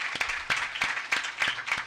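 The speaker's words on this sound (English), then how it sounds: "I think our commissioner deserves another round of applause for what he has done for us and for the state." Faint, sparse clapping at a Hornets press conference announcing the 2014 All-Star Game in New Orleans, a few scattered hand claps in an uneven rhythm, quiet and brief.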